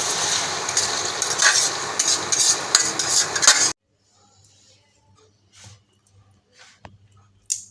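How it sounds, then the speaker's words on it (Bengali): Onions fry over high heat for fish balls, a dense crackling sizzle with stirring clatter that cuts off abruptly, followed by quiet scattered clinks and faint movements. "পেঁয়াজ বেরেস্তা করার সময় সবসময় হাই হিট রাখতে হবে"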